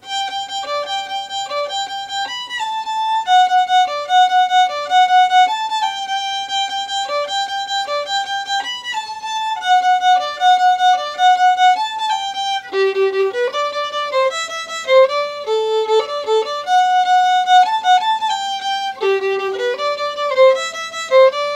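El Armadillo, a son de Xantolo, is played on a solo violin at a semi-slow tempo, a steady bowed melody that runs continuously, close and clear with no talking.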